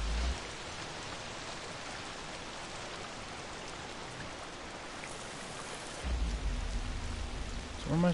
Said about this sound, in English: It's raining pretty hard.